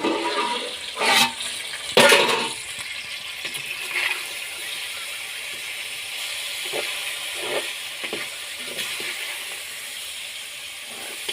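A steady watery hiss and bubbling from a pot of drumsticks boiling for egg curry, with a couple of louder clatters near the start before it settles into a continuous simmer.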